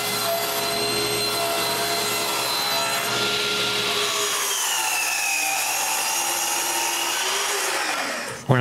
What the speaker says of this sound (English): So I begin by cutting some plywood.